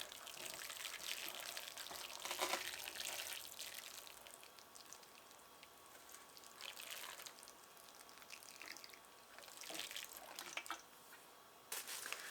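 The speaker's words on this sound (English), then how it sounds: "And then we'll give it a little water." Water trickles and drips onto potting soil in a tomato seedling cell tray, faint splashing and patters in uneven bursts, with a few louder spurts near the start and end.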